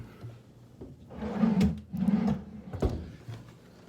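Wooden dresser drawers in a hotel room at the DoubleTree by Hilton Orlando at SeaWorld slide open and shut, with two scraping drawer runs followed by a knock as one closes, near and moderately loud.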